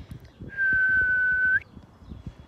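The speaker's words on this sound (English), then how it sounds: "if you hear this whistle" One loud, steady whistle blast sounds as the signal in a hide-and-seek game, held for about a second, close and clear over faint outdoor background noise.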